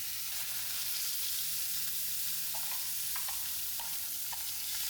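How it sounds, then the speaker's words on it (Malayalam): Two pieces of fish coated in fish fry masala frying in a pan make a steady, close sizzle with a few faint pops and clinks, with no talking. "ഇപ്പോൾ 2 കഷ്ണം മീൻ അതുകൂടിയാണ് വറക്കാം"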